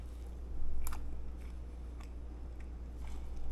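Someone biting and chewing a swai fish sandwich on soft sandwich bread, a few faint crunchy bites and moist chewing over a low steady hum, close and quiet.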